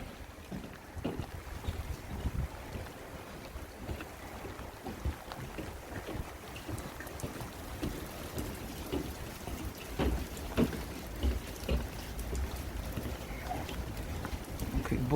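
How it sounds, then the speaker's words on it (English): Heavy rain and hail pour down at Wolverhampton's low level railway line, a dense hiss of drops with scattered sharper hits and gusty wind buffeting the microphone throughout. "it's absolutely coming down with hail and rain."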